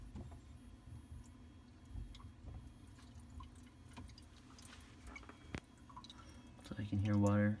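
Water drips and trickles from newly fitted, leaking tubes on a Culligan AC-30 reverse osmosis filter as the supply is turned on, with small scattered wet ticks and a faint flow, then someone talks close by at the end.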